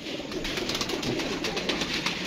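Pigeons coo softly nearby in repeated throaty, rolling calls that run together continuously, with no talking.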